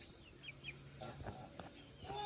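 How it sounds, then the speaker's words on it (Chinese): A small bald black chick clucks softly up close while pecking at a fabric sleeve; a few faint, short clucks and light taps sit over a quiet background. "看这只小鸡，就一直在啄我的袖套"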